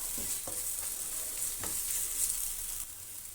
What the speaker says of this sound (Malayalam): പൊടിയുടെ പച്ചമണം ഒന്ന് മാറുന്നത് വരെ ഒന്ന് ചെറുതായി ഒന്ന് റോസ്റ്റ് ചെയ്ത് കൊടുക്കുക